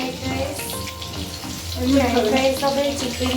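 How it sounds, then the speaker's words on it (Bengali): Fish frying in oil in a home kitchen while a family cooks many dishes, a steady, fairly loud sizzle with a bubbling, watery texture that swells midway, with faint voices in the background. "মাছ ভাজছে এটা মা করছে"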